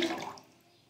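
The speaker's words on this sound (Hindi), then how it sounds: "1 गिलास हम इसमें पानी डालेंगे।" A brief splash of a glass of water poured into a kadhai holding milk, loud at first and quickly fading away within a second.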